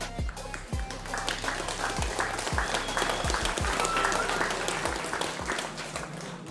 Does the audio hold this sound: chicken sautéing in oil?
no